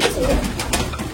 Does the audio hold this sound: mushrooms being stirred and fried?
no